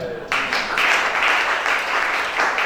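A church congregation at a service applauding: loud, dense clapping starts abruptly and holds steady in rippling waves, close and filling the room, with no clear speech over it.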